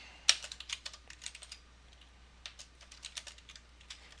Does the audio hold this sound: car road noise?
no